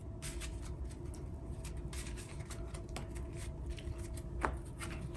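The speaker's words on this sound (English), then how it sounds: "Let's shuffle real quick." A deck of Yu-Gi-Oh cards is shuffled close by in soft, rapid rustling riffles over a steady low background hum, faint and continuous without talk.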